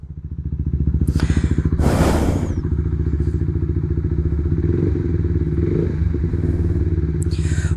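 A Honda X-Motion motorcycle fitted with a Yoshimura GP Magnum exhaust idles and revs nearby, a loud throbbing, pulsing exhaust note with a brief rev swell and a few clattering thumps.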